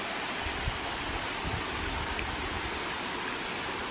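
A waterfall gushes from a rock spot at Well's Hill/Joy Gleghorn Nature Preserve in Tennessee, a steady, full-bodied rushing roar that stays constant with no pauses.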